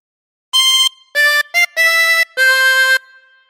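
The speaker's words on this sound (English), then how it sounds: "And practice this until you end up with something that sounds like this." A chromatic harmonica plays the eighth phrase of Pop Goes the Weasel as five clear, separate notes, loud and close, with no one talking.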